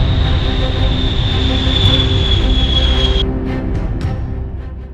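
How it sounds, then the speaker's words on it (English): A B-52 Stratofortress bomber passes overhead, a loud continuous deep engine roar with a high whine layered on top that suddenly drops away partway through, leaving the heavy rumble fading slightly. "The sound of a B-52 overhead is unmistakable, deep, heavy, intentional."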